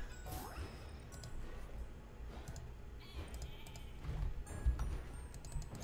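Bleating from sheep in the video game Flockers, short nasal calls scattered over a cluttered backdrop of clicks, thumps and game sounds, fairly quiet with no speech.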